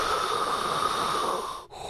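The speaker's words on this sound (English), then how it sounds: "The short opened with heavy breathing." Heavy, hoarse breathing opens a Pixar cars short, one long continuous raspy exhale close to the ear that breaks off abruptly just before the end.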